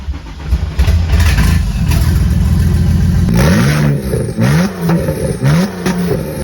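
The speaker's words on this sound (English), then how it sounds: "Gonna start the car because, you know." A BMW E9X 335i engine cranks and catches, then idles before several sharp revs climb and fall in quick succession, loud and close to the car.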